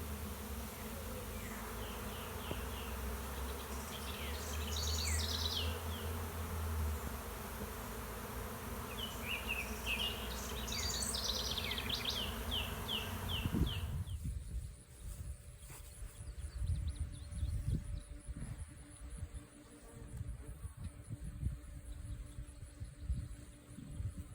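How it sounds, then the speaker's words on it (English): A dense, buzzing hum of many bees swarming fills the air, steady and close, with a few faint chirps and rustles in the background. "They sure seem to be swarming."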